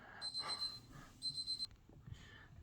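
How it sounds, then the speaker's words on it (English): A kitchen timer alarm goes off as two short bursts of rapid, high electronic beeping, separated by a pause and followed by a fainter tone, with soft background noise and no talking. "We have an alarm going off."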